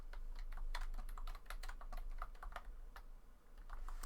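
Rapid typing on a computer keyboard, a dense run of crisp close key clicks with brief pauses, steady and fairly loud with no talking over it.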